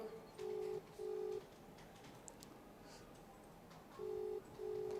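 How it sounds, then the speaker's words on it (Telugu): Repeating electronic tone bursts sound over a live phone call in a televised debate, paired pulses starting and stopping with a long gap between, moderately loud against a faint background hiss. "ఇగో ఇంకా రింగ్ అవుతూనే ఉంది"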